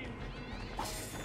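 Cats meowing in the video game Assassin's Creed Revelations, heard over a dense, loud wash of game ambience and music rather than standing out clearly.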